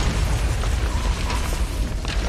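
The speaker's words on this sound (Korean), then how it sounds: "아이린의 이동과 동시에 폭발이 일어나고" Film explosion heard as a loud, sustained rumbling blast with scattered bursts and crackles over about two seconds, with no talking.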